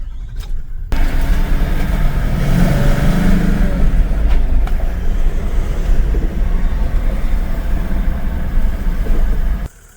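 A V8 Toyota Land Cruiser 79 Series drives along with a steady, loud low engine rumble and road noise throughout, fading out abruptly at the end.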